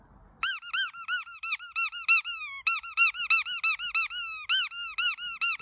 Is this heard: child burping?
no